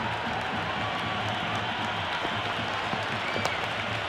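Dense cricket stadium crowd at an IPL match between Royal Challengers Bengaluru and Sunrisers Hyderabad, cheering and applauding in a steady, loud roar of claps and shouts that fills the whole stretch without letup.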